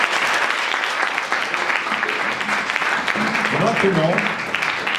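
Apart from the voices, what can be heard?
audience applause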